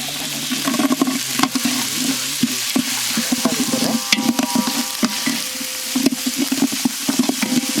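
Curry leaves, ginger-garlic paste, onion and tomato fry and get stirred in a pan for a Madurai country chicken gravy, a loud continuous sizzle broken by repeated scraping and clinking of the spoon, close up with no talking.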